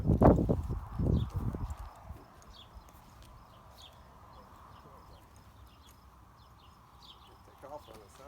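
A horse's hooves clop close by at the start, a few heavy thuds and scuffs on the ground, then quieter faint steps.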